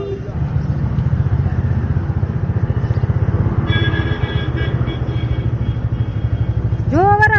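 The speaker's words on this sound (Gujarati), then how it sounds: "બહુ મજા આવે સ્મૂથ બાઇક હાલે" A CNG motorcycle engine runs steadily throughout, with a low pulsing chug and faint rising whine near the end.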